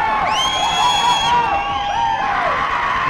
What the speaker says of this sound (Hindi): ये चीयरिंग देखिए, ये हूटिंग देखिए